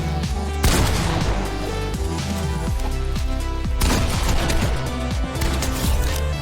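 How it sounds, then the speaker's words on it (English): Shotgun-style gunfire in a Fortnite build fight, a series of sharp loud blasts scattered across a dense bed of game music and effects, with bursts near the start and again around the middle. "so I shoot them and I win"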